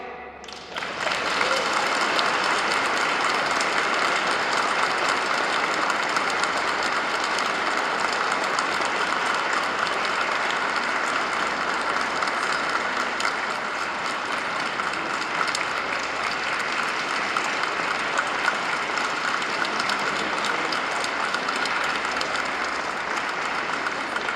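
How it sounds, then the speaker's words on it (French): A church congregation at Sunday Mass applauds its priests, a steady, sustained round of clapping filling the space for over twenty seconds with no break. "je voudrais que vous applaudissiez aussi un groupe petit mais costaud, selon la formule, le groupe de vos prêtres"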